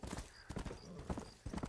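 Horse hooves clip-clopping at an easy pace in Red Dead Redemption, a handful of close, quiet clops in an uneven rhythm over a short stretch.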